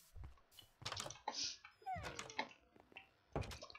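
Dog whimpering and yipping in Minecraft 1.19, faint scattered whines mixed with keyboard clicks and soft thuds.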